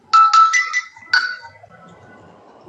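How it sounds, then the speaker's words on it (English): A mobile phone ringtone chirps in a few quick repeated bursts, loud and close, then stops, leaving a faint murmur in the background; no one speaks over it. "I can hear someone's phone ringing."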